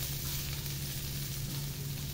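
Garlic frying in a pan for spicy chicken tinola, a steady close sizzle with no pauses and no voices.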